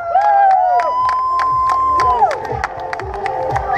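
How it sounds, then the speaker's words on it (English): Spectators at a half marathon finish line cheer, whoop and clap, a lively burst of yelling and scattered sharp hand claps close by, with one voice rising in a long shout. "I need a cheer squad. Like clapping, yelling, yeah, screaming if you want to do it."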